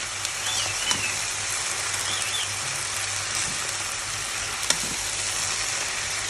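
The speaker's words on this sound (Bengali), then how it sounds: "আমি নাড়াই দিচ্ছি দেখেন নাড়াইতে নাড়াইতে শাকটা কমে যাচ্ছে" Leafy greens (shepherd's purse) sizzle steadily in a hot pan, a continuous close hiss with a few soft knocks of the spatula as they are stirred.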